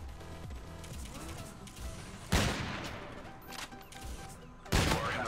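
Sniper rifle shots in Call of Duty: Infinite Warfare, two sharp loud cracks a couple of seconds apart over a low game soundscape.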